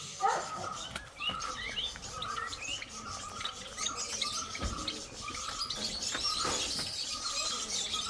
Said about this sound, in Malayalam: അല്ലേ, തത്തമ്മേ തത്തമ്മ കാണാം